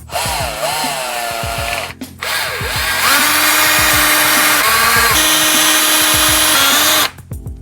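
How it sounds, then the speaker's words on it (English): A power drill whines loudly in several bursts, its pitch rising and settling as it bores through rubberized material in a New Edge Mustang interior, with short pauses between runs. "basically you will be drilling through this rubberized material here."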